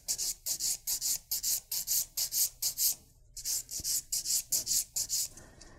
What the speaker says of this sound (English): as we file off that excess